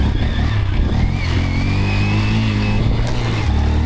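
A Honda Grom motorcycle engine drones steadily up close while riding on snowy, icy roads, its mid-pitched exhaust note holding even with slight shifts in revs.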